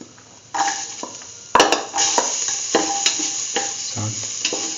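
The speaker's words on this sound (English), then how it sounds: "Now put in the shallots." Shallots hit a hot pan with a sudden hiss, then sizzle as a utensil stirs and scrapes them, knocking against the pan in irregular clanks up close.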